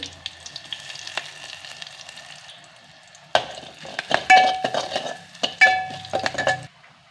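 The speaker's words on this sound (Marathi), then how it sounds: "मिरची घालायची आहे एक मिरची घेतली आहे मी कढीपत्ता" Chili, curry leaves and garlic hit hot oil with cumin for a kadhi pakoda tempering, giving a low sizzle that bursts into loud, crackling spatter partway through, with a few metallic clinks of utensils on the pan.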